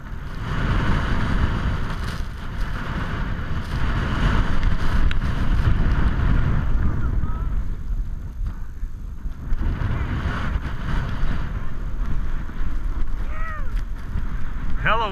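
Strong wind gusts across a mountain ski area, buffeting the microphone with a loud, uneven roar that swells and dips throughout.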